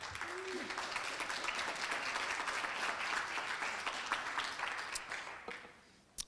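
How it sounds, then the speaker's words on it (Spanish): A church congregation applauds at a Spanish-language service, sustained steady clapping filling the room for several seconds before it tapers off near the end. "Ofrenda un fuerte aplauso al Señor"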